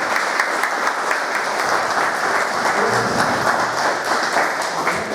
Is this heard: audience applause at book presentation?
yes